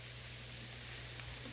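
Sliced mushrooms sizzle in butter and olive oil in a pan, a steady soft hiss of frying that holds evenly with no talking.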